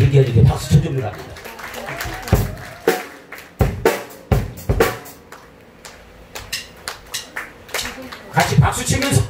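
An audience claps along at a lively outdoor pumba show in Wolpo, Pohang, with sharp hand claps in uneven bursts between and under people talking.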